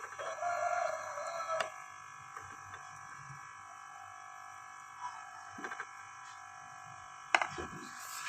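A rooster crows in short bursts with a few clucks, fairly close and loud at the start, then again near the end against a quiet outdoor background with steady low hum.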